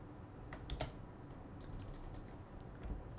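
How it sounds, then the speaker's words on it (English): Key presses on a computer keyboard during compositing software work, a handful of soft, quiet, irregular clicks close by in a quiet room, with no talk. "Hit T on the keyboard."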